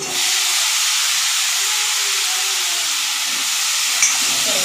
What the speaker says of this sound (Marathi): आता दोडका घालून झाला, चांगला परतून घ्यायचा.